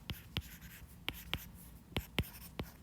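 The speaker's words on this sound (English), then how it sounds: "I'm just going to write system is both blocks" A pen scratches out words on paper in a physics practice quiz setting, with quick, separate strokes in short bursts, close and fairly quiet, and no talk.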